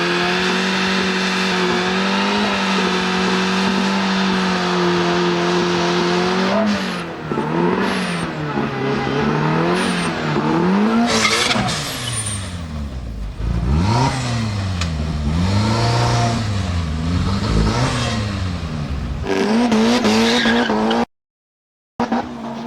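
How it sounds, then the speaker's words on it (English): A Toyota MR2 street car launches down a drag strip, its engine revving hard and rising through gears with tire noise, loud and close for about twenty seconds. "MR2 gets off to a clean start, but it needs the extra run to pull off a competitive ET."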